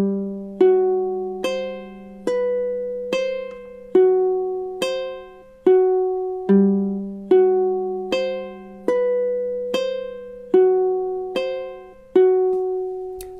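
A low-G ukulele plucks single notes of a Bach cello prelude slowly one at a time in an even, repeating pattern, each note ringing and fading before the next.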